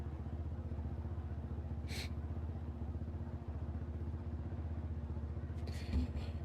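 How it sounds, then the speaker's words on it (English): A motorcycle engine in the MX Bikes motocross racing game on a supercross practice track runs a steady, fairly quiet buzzing drone with a rapid regular pulse, with a couple of brief sharp clicks over it. "Who's revving their bike already?"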